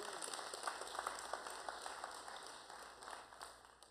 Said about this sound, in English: Somebody give the Lord a hand clap.